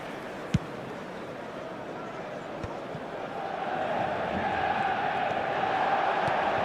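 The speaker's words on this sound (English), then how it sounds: "Spirited to say the least, certainly gave this crowd something to really cheer about" Stadium crowd noise from an eFootball 2025 match: a steady wash of cheering that swells noticeably louder partway through and holds, with a sharp thud near the start.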